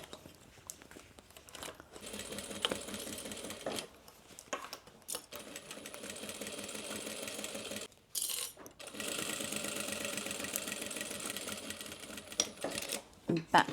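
A sewing machine stitches the seams of a fabric tote bag, running in long steady stretches broken by short pauses, with a backstitch near the end, while a person speaks over it.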